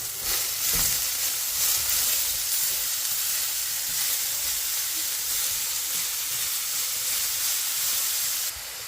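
Broccoli and carrot sizzle and hiss steadily in a hot pan while being stir-fried, a loud continuous frying noise that drops slightly at the very end.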